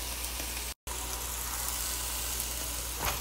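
Fish sizzles on a hot tawa griddle in a steady, even hiss with a low hum beneath, broken by a brief dropout near the start and a faint scrape toward the end.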